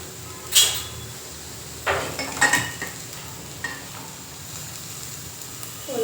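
A spoon stirs and scrapes green tomatoes frying in a pan for chutney, with a few sharp clinks of utensil against metal over a low, steady sizzle.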